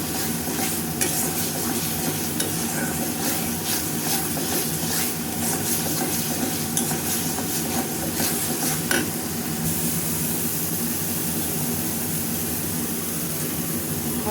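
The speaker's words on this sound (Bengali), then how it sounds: "এখন আমি নারকেলের দুধ দেবো" Coconut milk going into spices frying in oil in a home kitchen, producing a loud, steady sizzle and hiss that holds for the whole stretch, with faint stirring clicks now and then and no voices.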